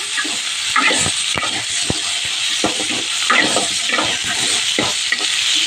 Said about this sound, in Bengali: বেগুনটা দিয়ে এবার একটু ভেজে নেবো।